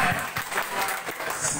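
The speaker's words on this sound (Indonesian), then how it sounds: "tepuk tangan untuk Anda semua ya" An audience at a company presentation for PT. BBC claps together in a dense burst of applause, loud and close for a moment with some voices mixed in.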